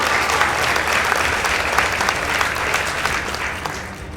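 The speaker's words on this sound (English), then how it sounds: "let's give it a round of applause for Riara Spring Girls High School" Sustained applause from an audience at a school debate as the winning girls' high school is announced, dense steady clapping with a few cheers, loud throughout.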